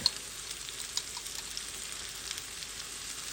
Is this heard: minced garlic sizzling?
yes